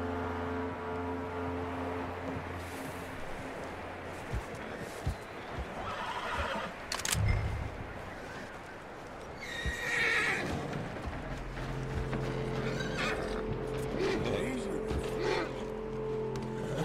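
A horse in Red Dead Redemption 2 whinnies amid clip-clopping hooves and shuffling, with a low engine-like hum underneath; a distinct neigh rings out near the middle, fairly close, over quiet ambience.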